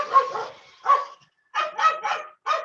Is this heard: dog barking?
yes